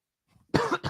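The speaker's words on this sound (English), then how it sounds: "you started coughing" A person coughs twice in quick succession, close and loud, after a moment of near silence.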